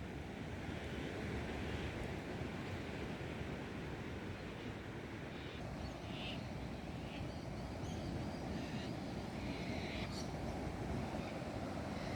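Ocean surf at Umina Beach on the Central Coast rolls in as a steady, dense wash, with wind buffeting the microphone the whole time.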